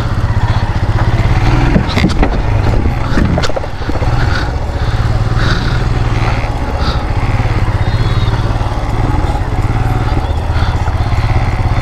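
A Royal Enfield Himalayan motorcycle rides off-road at a scrambler event, its engine loud and close with a steady, rough drone, plus occasional scrapes and clatter over the rumble.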